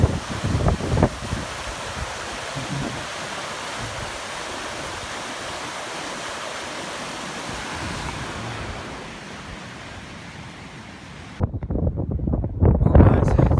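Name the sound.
small rapid / waterfall of rushing water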